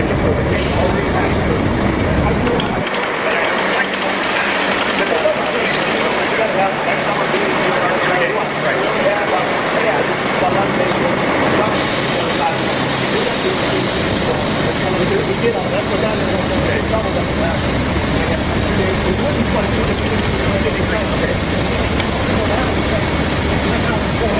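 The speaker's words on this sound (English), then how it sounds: "The resounding sound of the engine mixed with the bustling laughter signals a bountiful harvest season." A heavy off-road dirt-hauling truck engine drones continuously throughout, a loud, steady rumble that barely changes over the whole stretch.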